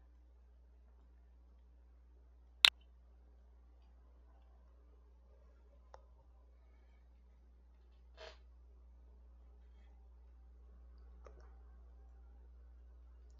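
A single sharp mouse click rings out in a quiet room, followed by a few fainter clicks spaced several seconds apart.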